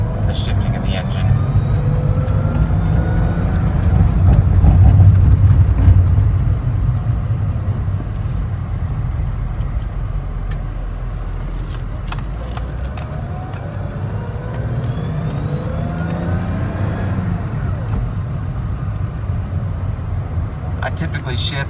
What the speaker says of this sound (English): Should be able to hear more of the shifting of the engine.